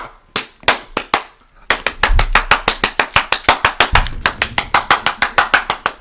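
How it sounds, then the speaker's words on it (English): A single person claps hands sharply and close up, a few spaced claps at first and then a fast, steady rhythmic run of loud claps. "you know what don't crack? The clap."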